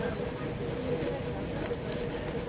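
A regional train at Taree station pulls away after delays, a steady low rumble and hum of the carriage with faint rail noise, even and continuous throughout.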